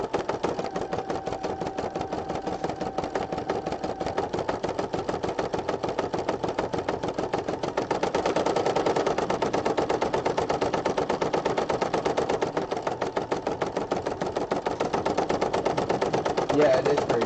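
An embroidery machine stitches a design onto paper, giving a fast, steady mechanical clatter of needle strikes that runs without a break and grows slightly louder partway through.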